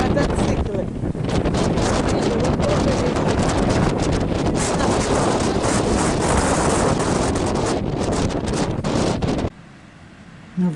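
Strong Levante wind from the Sahara in Spain buffets the microphone with loud, continuous roaring gusts, breaking off abruptly near the end.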